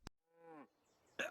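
Cattle give a single drawn-out moo, close and clear, bracketed by short clicks and a brief burst of noise, as part of a My Little Pony episode.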